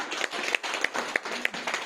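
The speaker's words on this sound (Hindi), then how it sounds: "एक बार उनके लिए जोरदार तालियां" An audience applauds its company founder at a gathering, a faint patter of scattered hand claps with a few sharper individual claps standing out, steady and fairly distant.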